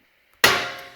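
An old Honda Civic front wheel bearing breaks loose under a breaker bar with a single sharp metallic crack after silence, then a ringing decay.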